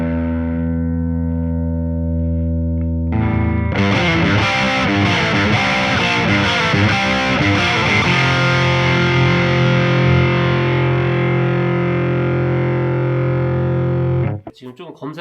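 Electric guitar through a Marshall Blues Breaker overdrive pedal with the Deep knob turned up. Sustained notes give way to a thick, distorted strummed passage that rings out loudly and close before cutting off.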